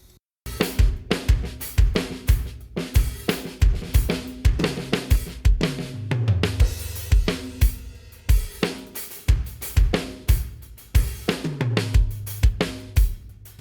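A full drum kit plays a steady groove with kick, snare and cymbals, wrapped in a roomy ambience that adds depth behind the hits.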